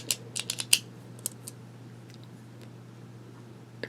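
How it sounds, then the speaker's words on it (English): A ballpoint pen with a click mechanism, several quick sharp clicks bunched near the start, then a few sparser clicks over a low steady hum, close and fairly crisp; no talking. "Got nice click action on it"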